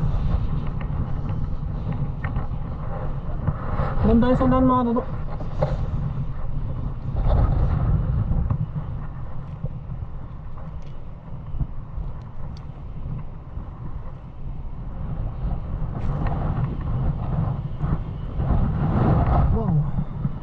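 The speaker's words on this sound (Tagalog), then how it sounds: "Uy, lakas ng hangin mga katoto" Strong wind rushes across a beach as a steady, gusty roar buffeting the microphone for the whole stretch, with people talking over it.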